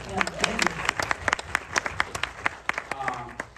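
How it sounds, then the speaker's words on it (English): Audience clapping at a film Q&A screening at the Nuart theater, a sustained round of applause with dense overlapping claps at moderate loudness, filling the room without voices standing out. "Round of applause, please."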